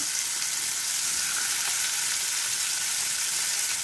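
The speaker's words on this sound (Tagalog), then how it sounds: "At iluto na natin yung ating pork chop." Pork chop frying in a hot pan over low heat, a loud, steady close-up sizzle with dense crackling that holds evenly throughout, no voices.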